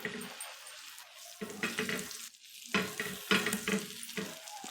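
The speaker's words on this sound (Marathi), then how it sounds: "पाव आहेत ते तव्यावर ठेवून द्यायचे आहेत" Bursts of crackling sizzle from bread rolls toasting in butter on a hot griddle, coming and going in uneven surges with brief quieter gaps, close by.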